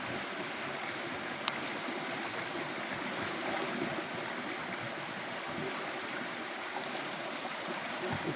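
A river stream flows steadily at a fishing spot, its continuous broadband rush of water close and even throughout, with no voices.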